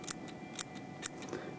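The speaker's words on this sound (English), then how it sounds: "make a cut towards the back of the tail so it has a taper" Scissors snipping a foam popper body into a taper at a fly-tying vise, four or five crisp close cuts at a steady pace against a quiet background.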